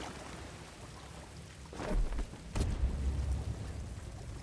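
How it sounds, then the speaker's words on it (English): Steady rain falls in the Star Wars Jedi Fallen Order video game, a constant hiss broken by two deep rumbling bursts like thunder, with no talk over it. "it's drizzling a little bit"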